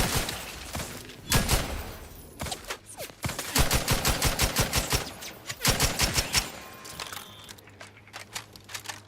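Rapid bursts of automatic gunfire in the video game The Outer Worlds 2, several clustered volleys of sharp cracks with short gaps between them, loud and close.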